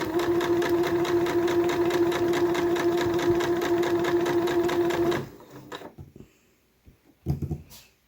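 A sewing machine stitches cotton fabric in a fast, even mechanical rattle that runs loud and close for about five seconds, then stops, followed by a few light handling clicks and a brief burst of movement.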